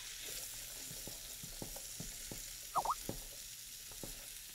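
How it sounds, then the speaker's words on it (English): Mushrooms and onions frying in a pan give a faint, steady sizzle with soft, irregular ticks from stirring and a brief squeak partway through. "We're going to cook this more or less until the mushrooms darken and the onions turn translucent."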